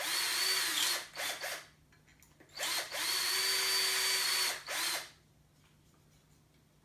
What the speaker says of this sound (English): I've used a 4mm drill bit there, just so I get that through nice and tight.